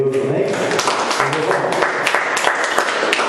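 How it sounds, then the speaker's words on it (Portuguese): Church congregation clapping in praise during a worship service, a dense, steady patter of many hands that runs the whole time with a voice speaking over it. "E que as palmas louvem a Deus, amém."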